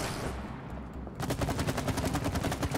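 Rapid gunfire from a weapon in the co-op video game It Takes Two, a steady burst of loud repeated shots that begins partway through after a noisy stretch and continues to the end without talk.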